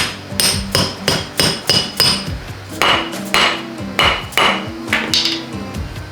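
A hammer drives a transmission bearing race into place, using an old race with a washer welded on as a punch: about a dozen sharp metallic blows in an even rhythm, close and ringing, with no voices.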